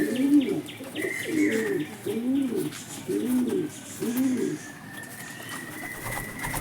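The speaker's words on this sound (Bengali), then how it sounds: "ডিম থেকে পায়রা ছাড়লাম, দেখুন ডিম থেকে আপনাদের সামনেই ছাড়লাম" Pigeons cooing in a steady run of five rhythmic, close coos with some chirping in the background, ending in quieter rustling.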